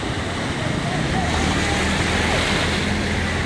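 Floodwater from an overflowing river roars steadily and loudly throughout, a broad continuous wash with low rumbling underneath and faint wind noise.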